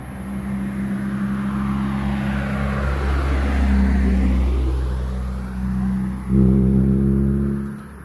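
At a roadside stop, a car drives past with a steady engine drone that swells, sweeps in pitch as it passes and is followed by a second louder engine surge.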